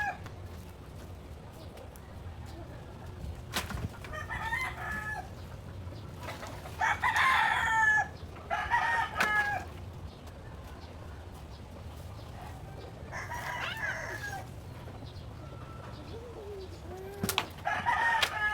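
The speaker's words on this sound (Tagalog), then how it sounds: "mga tingog ra sa mga chicken." Chickens and a rooster on a small farm crow and cluck at a moderate distance, several calls scattered across a quiet outdoor background with a faint low hum and no talking.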